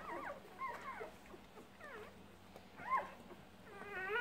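A litter of newborn puppies lets out repeated high, wavering whimpers and squeaks, soft and close, coming in short irregular bursts with brief quiet gaps between.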